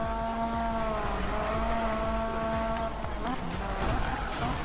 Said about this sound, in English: I'm doing little drifts in the Miata.